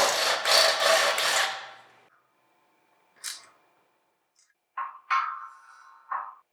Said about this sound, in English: I simply drilled some new holes and moved the one support closer to the other one.